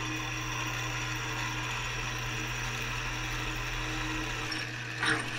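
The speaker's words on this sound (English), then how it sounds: "Now I'm just drilling some hot roll steel." A steady, continuous mechanical whir of a drill boring into hot rolled steel, with a low motor hum throughout and a brief change near the end.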